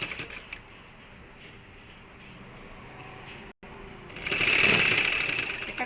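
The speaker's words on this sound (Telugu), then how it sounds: "తర్వాత మనం ఇలా కుట్టుకోవాలి." A sewing machine stitches a plain blouse: a low, steady mechanical hum runs through the first seconds, then the motor surges into a louder, brighter whir of fast stitching near the end.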